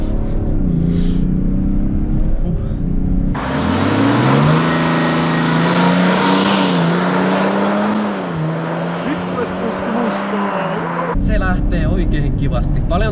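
BMW F31 330d diesel launching hard from a launch-control start: engine note climbs steadily with gear shifts, a sustained rising drone under interior road noise, with people talking inside the car before and after.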